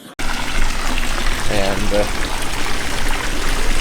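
Garden plants, including tropical plants, being watered: a steady, close rush of water runs continuously throughout, with a brief spoken word over it near the start.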